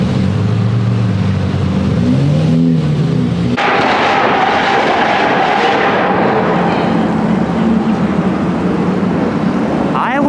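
Lamborghinis and other supercars rolling past in a parade at a crowded Daikoku New Year's car meet, engines revving loudly and continuously nearby amid heavy traffic noise.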